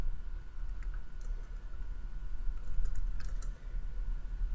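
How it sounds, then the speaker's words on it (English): Free text is typed on a computer keyboard, with soft scattered key clicks that are faint and close, heard over a steady low background hum. "You can simply start typing away,"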